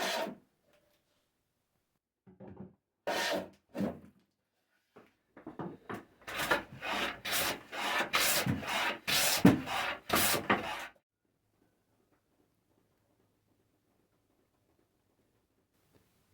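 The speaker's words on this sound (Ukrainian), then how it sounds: "Після цього вирівнюю рубанком і отримую більш-менш рівний каркас." A hand plane levels a wooden frame with a series of rapid, close scraping strokes that come in quick bursts, then stop, leaving near silence.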